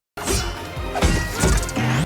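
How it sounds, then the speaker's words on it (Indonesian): Objects smash and break in a chaotic brawl between bandits and a shop owner in the animated film Kung Fu Panda 4. Several loud crashes and shattering bursts follow one another quickly. "Aksi cepat, suara benda pecah"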